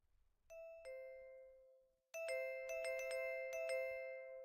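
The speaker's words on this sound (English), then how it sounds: "Whoever it is keeps ringing the doorbell." A two-tone video game doorbell chimes, pauses, then rings again and again in quick succession, clear electronic ding-dongs overlapping in a frantic burst.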